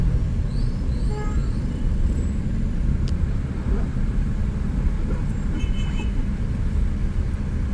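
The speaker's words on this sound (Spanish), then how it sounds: "sí, hay bastante tráfico aquí" Steady roar of morning rush-hour traffic on a Guatemala City street, cars and motorbikes passing continuously nearby, with a faint horn-like tone and scattered clatter over the dense hum.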